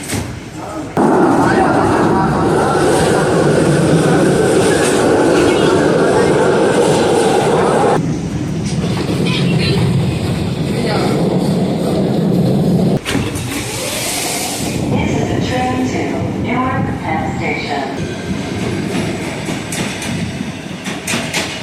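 Inside a moving public transit train, a loud continuous rumble and rolling drone with shifts in tone, brief clanks and sections where a voice speaks over the noise.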